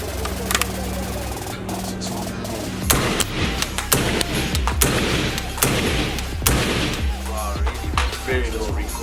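Sword International 5.56 rifle fired in a rapid series of loud, sharp shots over steady background noise, the rounds coming close together and unevenly spaced, with a voice talking among them.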